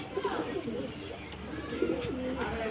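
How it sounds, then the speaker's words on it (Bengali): A female pigeon of the paanja breed coos softly in a few low, rolling phrases close by, with steady faint background hiss and no voices. "তো এই যে পাঞ্জা খুব ভালো কোয়ালিটির মাদি পায়রা এটা।"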